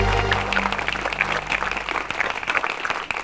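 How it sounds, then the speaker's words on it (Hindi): A school audience of children applauds a guest, a steady dense wash of many hands clapping at moderate loudness, with a low hum fading out at the start. "बच्चों, माननीय अतिथि जी का स्वागत तालियां बजाकर कीजिए।"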